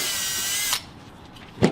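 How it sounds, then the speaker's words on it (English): A power drill pre-drills a hole during a window installation, whining steadily for under a second before cutting off, leaving faint room noise and a brief knock at the end. "Try that pre-drill situation."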